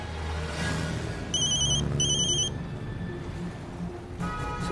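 An incoming call sets a phone ringing with two short electronic ring bursts, fairly quiet over a soft indoor background, followed by a faint further tone.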